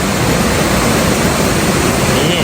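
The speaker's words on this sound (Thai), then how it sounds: "น้ำไหลแรงนะครับ" Kong Kaew waterfall at Khao Yai, swollen by rain, pours in a loud, unbroken rush of flowing water that fills the whole moment close by.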